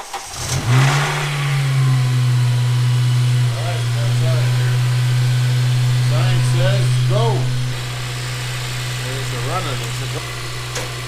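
A 2007 Honda Civic Si pulls out of a garage, its engine humming steadily nearby with a few revs and a drop to a lower drone, while people talk over it.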